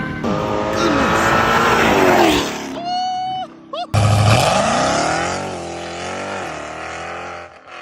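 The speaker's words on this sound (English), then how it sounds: "1600 horsepower launching in a car like this is quite the sight to see" A supercharged Hellcat-engined Honda making 1600 horsepower launches hard with a loud, close engine roar and tire squeal, breaks off briefly at a shift, then roars again and pulls away.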